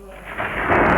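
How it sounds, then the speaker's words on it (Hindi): Heavy rain pours down as a dense, broad roar that swells steadily louder, with a low thunder rumble rising underneath and no talk. "मूसलाधार बारिश"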